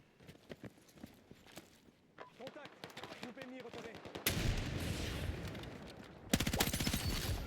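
Rapid gunfire in a shooting video game, faint crackling shots at first, then sustained loud bursts of automatic fire over the last few seconds, with people talking throughout.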